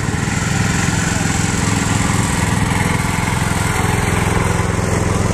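Old John Deere tractor engine runs steadily at a show, its low throbbing exhaust pulse loud and continuous throughout with no talk.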